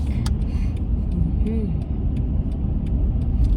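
Slow car traffic on a road on the way to a Kroger store makes a low engine rumble that hums steadily, with faint muffled voices underneath.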